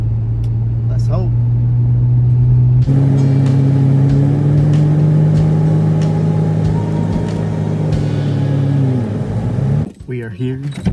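A Nissan Skyline R34 with an overheating issue, its engine running loud and close with a steady hum that rises in pitch as it revs, then drops off abruptly near the end.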